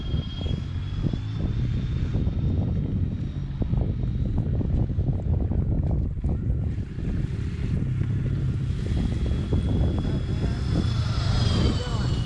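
Freewing F-14 electric ducted-fan RC jet passing at full speed, a rising whine that swells and fades over wind noise on the microphone, with people talking nearby.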